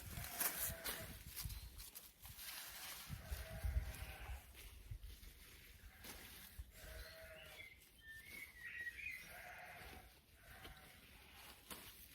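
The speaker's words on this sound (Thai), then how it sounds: "เราได้ยินเสียงแกะ เสียงธรรมชาติ" Sheep bleating in an open pasture in the early evening, faint and distant cries now and then under a steady outdoor hiss, with someone talking quietly over the scene.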